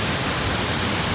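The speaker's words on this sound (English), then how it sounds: "It's a nice waterfalls. Nice waterfalls right here." Steady, dense rushing water from a waterfall near Mirror Lake on the Big Beehive and Lake Agnes hiking trail, a constant close roar filling the whole clip with no voices.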